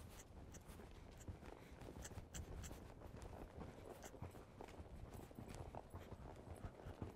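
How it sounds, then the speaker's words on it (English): A horse cantering in an arena, with steady rhythmic hoofbeats close by, thudding in a repeating three-beat pattern under faint background noise. "Let's go ahead and try it at a canter now."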